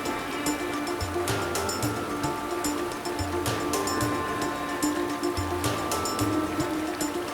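A river rushing continuously at a stream crossing, a broad steady wash of flowing water with faint low rumbles and scattered higher splashes, no voices.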